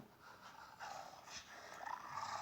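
Soft, quick dog panting in a horror video game, faint and close, with a few snorting breaths and no talking.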